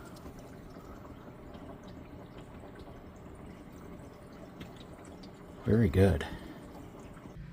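Water runs steadily into a PVC drain pipe beneath an RV, a faint, even trickling hiss under a brief spoken remark.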